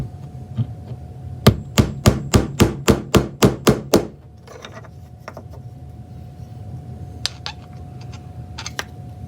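A hammer drives a nail into the center of a wooden domino, about ten quick, evenly spaced sharp taps in a row, followed by a few scattered lighter knocks and handling sounds.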